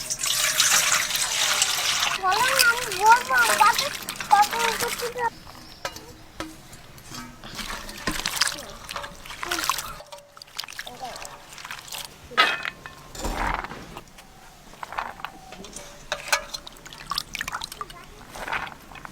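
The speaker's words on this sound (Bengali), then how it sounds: "জল দিয়ে খুব ভালো করে পেঁপেগুলো ধুয়ে নেব" Chopped papaya pieces washed in water: splashing and trickling close by for several seconds, then quieter drips and clatters, with voices talking in the background.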